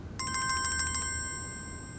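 A phone ringtone chimes in a rapid series of about ten bright, evenly spaced electronic beeps, then settles into a sustained tone that fades slightly, clear and close over a quiet indoor background.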